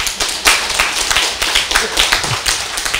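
An audience at a lecture claps hands in an uneven burst, individual sharp claps standing out close and loud in a loose, irregular rhythm.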